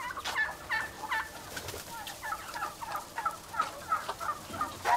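Farm poultry, including chickens, turkeys, ducks and geese, on a farm near Goslar, Germany, giving a run of overlapping gobbles, clucks and calls at moderate distance without a pause.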